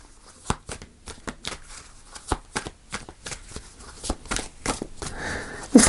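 A deck of tarot cards being shuffled by hand, producing a quick series of crisp riffling snaps and flutters close by, irregular in rhythm, with a louder rustle at the end.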